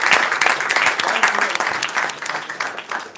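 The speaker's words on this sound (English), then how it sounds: "A big round of applause" Audience applause at a Toastmasters milestone meeting, a dense burst of many hands clapping steadily and loudly throughout, with faint voices mixed in.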